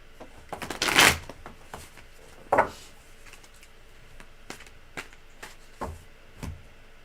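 Tarot cards are shuffled close by: a loud riffle, a second burst, then several lighter taps and flicks as the deck is squared, with no talking.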